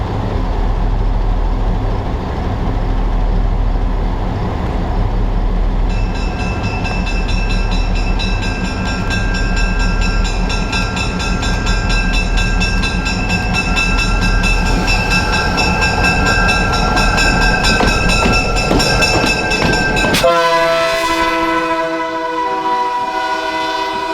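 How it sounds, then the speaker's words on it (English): Burlington Northern F9A and F9B diesel cab units haul a heavyweight coach train at a museum event, engines rumbling steadily, then a loud multi-tone horn blast sounds near the end, alone with no talk. "The coach train has had its locomotive swapped and is now using Burlington Northern F9A BN1 and F9B BN2."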